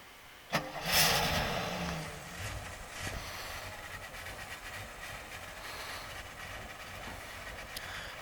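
A car's starter cranks and the engine fires with a sharp burst near the start, then settles into a steady idle that runs on to the end; it is fairly quiet overall, and no one talks.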